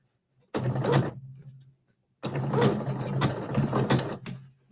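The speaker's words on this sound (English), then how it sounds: "we're going to back stitch when we first get started, always, to secure our threads and our stitches" A sewing machine back stitches through rope in two bursts of loud, close, whirring mechanical clatter separated by a short pause.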